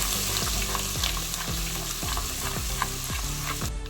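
Curry leaves and grated ginger-garlic frying in a pan, a dense continuous sizzle with regular spatula scrapes about twice a second, close and steady, no voices.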